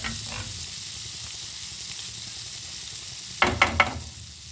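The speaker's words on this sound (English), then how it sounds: "I'm gonna fry my mushroom and spinach first. So here goes my butter, margarine." Butter-margarine melts in a frying pan with a steady low sizzle, then a short burst of louder crackling spatter near the end, close by, no talking.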